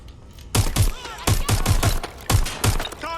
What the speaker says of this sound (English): Target is firing!